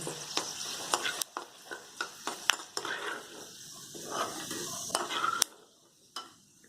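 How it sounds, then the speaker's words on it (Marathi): Dried radish pods frying in hot oil, with a bright sizzle broken by repeated sharp clinks and scrapes of a spoon against the pan, then quieting toward the end. "आता हे तळूया तेल कडक झाल्यानंतर घालणं हे बघा छान फुलतात"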